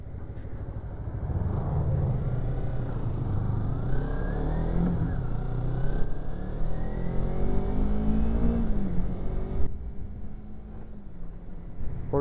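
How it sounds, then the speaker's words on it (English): A motorcycle engine is revved during break-in, a continuous close drone with slow throttle rises and falls lasting over twelve seconds, with no voices. "I just rev it and it doesn't hesitate at all."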